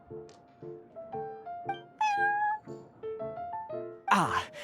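Prince, a cat in a video game, meows repeatedly in a rhythmic series of short, close, tonal mews rising in pitch, ending with a louder, breathy wail.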